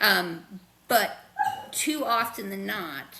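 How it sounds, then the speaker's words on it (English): A dog barks and whimpers in its sleep during a nightmare, faint short yelps in the background underneath a man's steady speech. "I don't know if you hear my dog in the background."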